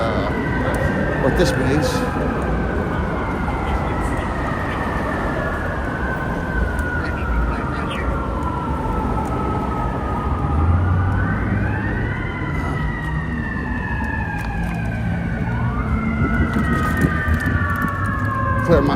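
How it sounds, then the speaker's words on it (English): An ambulance siren wails on a Los Angeles street over heavy traffic rumble, its rising and falling tones growing closer and louder, while someone speaks briefly. "Here comes another ambulance, sounds like."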